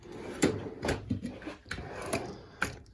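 A metal toolbox drawer slides open with rattling, clunking contents, a quick series of knocks and scrapes heard up close with no talking.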